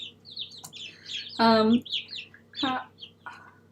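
Backyard chicks peep in quick high chirps while a hen lets out two louder, harsh clucking calls, all close by in a short burst of flock sounds.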